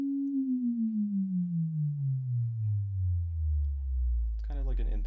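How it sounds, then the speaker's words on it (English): Sine wave sound effect from a music track, a pure tone sliding steadily downward in pitch over about four seconds with a gentle pulsing wobble, ending in a deep low rumble as a brief noisy burst cuts in. "It's in the background because all it is a sine wave"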